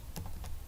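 A computer keyboard is tapped a few times in quick succession while a file name is entered, producing soft, close clicks over a faint background hum.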